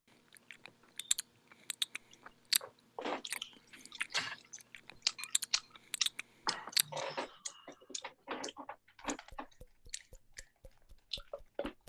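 Close, wet chewing and squishing of greasy food in mukbang ASMR style, with dense irregular clicks, smacks and bites continuing steadily for the whole stretch with no talking.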